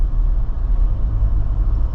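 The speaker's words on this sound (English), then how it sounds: "you just get more road noise in this compared to a regular car" Cabin road noise inside a 2025 Jeep Wrangler Rubicon 392 with its exhaust valves closed: a steady, loud low rumble that holds evenly throughout, with no talking.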